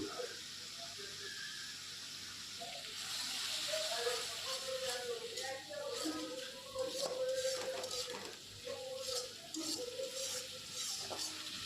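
Bogo fish curry masala with Kashmiri chili powder stir-fried in a pan gives a quiet, steady sizzle broken by soft scraping stirs, with faint talk underneath.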